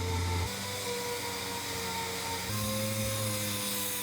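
The surface of a camper van being sanded gives a steady, close, buzzing whine that shifts in pitch a couple of times as the pressure changes.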